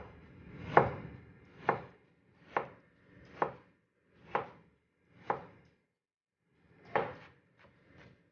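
Knife dicing an onion on a cutting board: about nine crisp, evenly spaced chops, close and distinct against near silence, with two softer taps at the end.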